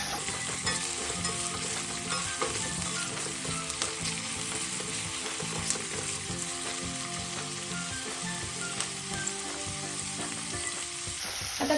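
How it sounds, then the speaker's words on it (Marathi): Onion and tomato fry in a pan for a pea and potato curry, a steady, close sizzle with frequent stirring scrapes, continuous throughout with no talking. "आपण आता टोमॅटो आणि कांदा अगदी व्यवस्थित भाजून घ्यायचा आहे"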